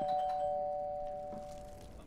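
A doorbell rings in the horror video game Fears to Fathom: Woodbury Getaway, a single sustained electronic chime with steady tones that slowly fade, heard alone without any talk.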